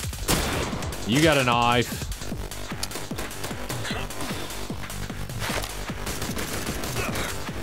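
Gunfire in the video game I Am Your Beast, including shotgun blasts, sounds as a series of sharp reports mixed with game effects while someone speaks briefly.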